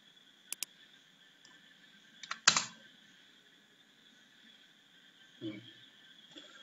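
A computer mouse and keyboard during work loading Excel data into an Oracle database: a pair of quick clicks, a short burst of key taps, and one later thump, all close and sparse against a quiet room.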